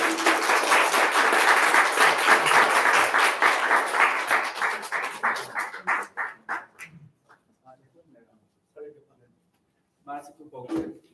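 A Sunday worship congregation claps as the guest speaker comes forward, a dense burst of applause that thins into scattered individual claps and fades out, followed by brief speech near the end.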